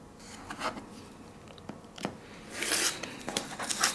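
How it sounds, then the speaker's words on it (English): Scissors trimming quilting fabric around a foundation-paper-pieced mug cozy: a series of close, crisp snips and rustling cuts at an uneven pace, ending in a burst of quick scraping strokes, with no voices. "you can just take the scissors and cut it"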